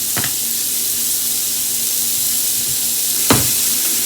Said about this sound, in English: You can hear the sear of that sausage.